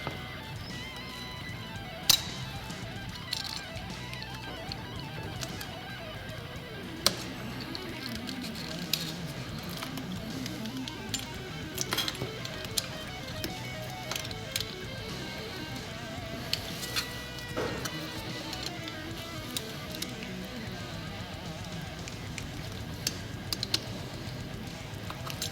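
A blade slicing through a hardened chunk of old RTV silicone, a long quiet stretch of soft scraping and squishy cutting noise broken by scattered small clicks and ticks.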